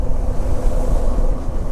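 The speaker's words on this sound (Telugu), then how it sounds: "ఆ పైన నుంచి పడిన వాటర్ ఫాల్స్ మొత్తం ఈడ కాడుతున్నాయి ఈ వాటర్" A waterfall's runoff pouring down at Malshej Ghat, a loud, dense, steady rushing roar of water heard up close with no pauses.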